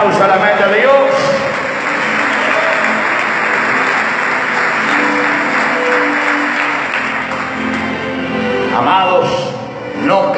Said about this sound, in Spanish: denle un fuerte aplauso a la mente de Dios